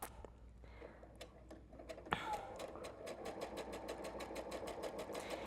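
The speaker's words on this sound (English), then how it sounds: "once I'm within the seam allowance, I pivot and I stitch up the edge" A sewing machine runs steadily along the edge of a baby washcloth, its rapid even needle ticks starting after a brief pause and a sharp click, close and moderately loud with no talk.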